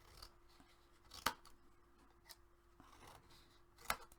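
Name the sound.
scissors cutting chipboard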